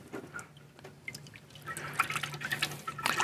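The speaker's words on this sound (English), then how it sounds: "We wanna pour a little bit in while holding the spigot down." Fresh ice cream mix poured into an Electro Freeze CS4 soft-serve machine while its spigot is held down, making a soft, uneven trickle and splash that builds louder toward the end.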